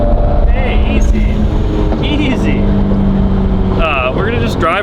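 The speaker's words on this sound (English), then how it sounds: "So we're just gonna drive this around." A Subaru WRX with a fully built IAG engine drives along, its loud, steady exhaust drone filling the cabin and rising and falling with the throttle while people talk over it.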